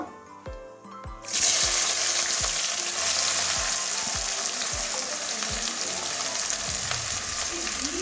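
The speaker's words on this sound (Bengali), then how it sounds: "এরপরে পেঁয়াজটা দিয়ে দিচ্ছি, কুচনো পেঁয়াজগুলো সব দিয়ে দেবো।" Chopped onions dropped into hot oil with dried chilli and cumin, a few knocks and taps before a sudden loud sizzle bursts up and continues steadily, close and crackling with occasional stirring.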